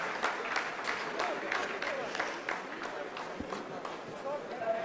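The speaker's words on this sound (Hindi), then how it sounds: "आप इस तालियों के गड़गड़ाहट को सुन सकते हैं," Scientists at mission control applauding during the Chandrayaan-3 lunar landing, a continuous patter of many hands under a commentator's voice, with individual sharper claps poking through the crowd noise.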